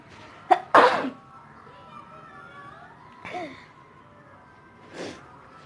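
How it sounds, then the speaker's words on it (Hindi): A woman gives a sharp sneeze brought on by black pepper, preceded by a quick intake of breath, followed later by softer breathy sounds against faint background noise. "काली मिर्च से थोड़ी बहुत छींक आ जाती है।"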